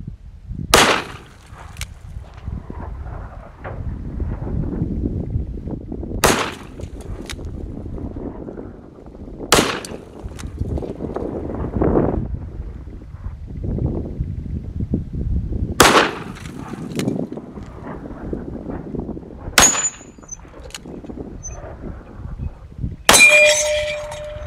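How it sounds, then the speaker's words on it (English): Sharp, loud gunshots from a rare .357 Maximum Ruger Blackhawk revolver firing 180-grain bullets at soda cans and gongs, about six spaced reports, some followed by a metallic ring from the struck gong. "What I'm shooting right now are 180 grain bullets"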